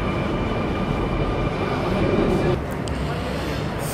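Sydney Millennium set electric train pulling away from a station platform, a steady loud rumble of traction motors and wheels that eases slightly near the end, with no talk over it.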